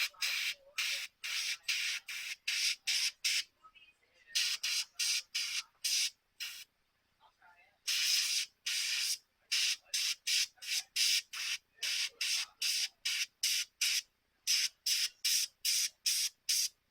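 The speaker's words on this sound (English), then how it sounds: "I'm gonna spray that." A spray bottle squirted over and over in quick, even pumps, sharp hissy bursts close to the mic with a short pause midway, no voices.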